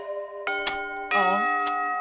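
A timing gong or chime at a public open meeting in Piotrków Trybunalski signals that a speaker's time is running out, ringing as several clear, sustained tones struck in quick succession in a quiet hall.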